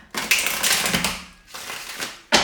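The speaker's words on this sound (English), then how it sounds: "I'm going to do 4 shuffles for you" Tarot cards being shuffled by hand in repeated riffling bursts, dense crisp papery rustles with a short pause midway and a final sharp burst, close and fairly loud with no talking.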